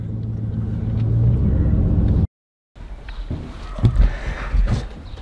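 A vehicle drives to a house under renovation, with a low engine rumble and road noise building steadily, a brief cut to silence, then uneven driving rumble and bumps resuming up close.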